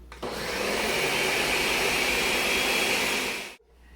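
A blender whizs roasted red pepper soup in one loud, steady burst of whirring for about three and a half seconds, then cuts off abruptly into a quiet room.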